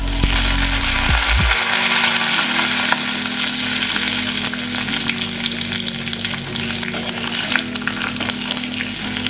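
Mustard seeds, cumin, dried red chillies and curry leaves sizzle in hot oil for a tempering, a loud continuous crackling fry with faint ticking clicks running underneath throughout.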